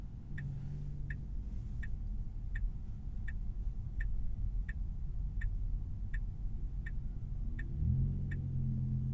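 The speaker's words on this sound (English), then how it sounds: "Let's try to merge into traffic with autopilot." A 2024 Tesla Model 3 Highland merging into traffic on autopilot, with steady road and tyre rumble inside the cabin and a regular ticking indicator clicking throughout.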